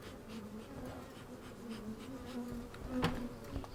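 Many honeybees hum at a hive used for royal jelly production in a steady, faint drone, with a few closer individuals buzzing past now and then.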